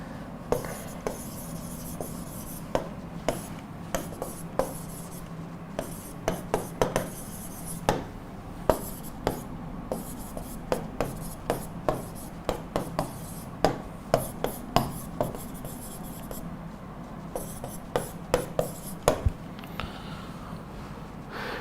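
Writing a sentence on a board during an English exam-prep class: a long run of short scratchy strokes and sharp taps in an uneven rhythm, close by over a steady low room hum, with no talk.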